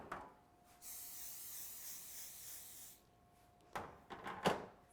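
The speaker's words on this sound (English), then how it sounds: "you want to spray them all over with your buttered flavor cooking spray" Butter-flavored cooking spray hisses from a can onto cookies in one steady two-second burst, close and fairly quiet, followed by faint kitchen handling and rustling.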